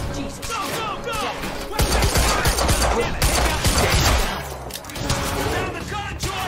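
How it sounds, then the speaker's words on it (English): Video game gunfire during an armed firefight, rapid dense shots and thumps in a loud continuous barrage, mixed with overlapping game speech. "Then stop fucking shooting at us!"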